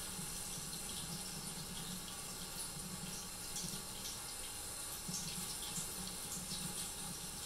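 Water runs steadily from a kitchen tap into a sink during dishwashing, with a Maine Coon cat nearby; a continuous, soft, even flow heard alone without talk.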